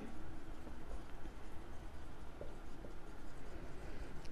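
A pen scratches steadily across paper while a Pythagoras theorem solution is written out for a Class 10 geometry lesson, forming a continuous close scratching texture with no speech.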